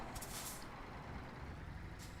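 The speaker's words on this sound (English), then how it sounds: "Bit of brakes here." Air brakes hiss on a truck in Euro Truck Simulator 2, a short bright burst of released air over the steady low rumble of the game engine, with a second fainter hiss near the end.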